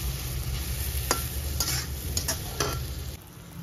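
Mashed boiled potatoes stirred into hot masala for Punjabi rajma, a soft continuous sizzle broken by several sharp spoon knocks and scrapes against the pan, with no talking.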